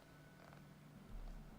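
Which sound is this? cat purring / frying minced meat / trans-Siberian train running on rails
cat purring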